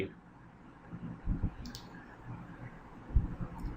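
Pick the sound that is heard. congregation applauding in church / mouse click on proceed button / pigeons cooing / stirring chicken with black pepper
mouse click on proceed button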